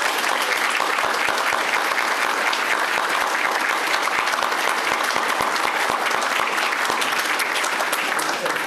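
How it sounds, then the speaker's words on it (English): An audience at a county board meeting claps for award recipients, a dense, continuous round of applause from a crowded room that holds steady throughout. "let's one more loud round of applause for all of our award recipients"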